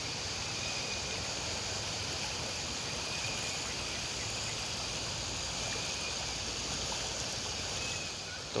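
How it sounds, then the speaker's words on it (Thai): Fast-flowing, deep stream water rushes steadily and evenly near a reservoir campsite, a constant close-up wash of sound with faint insect chirring in the background. "อันนี้ค่อนข้างลึกนะครับ น้ำไหลแรงครับ"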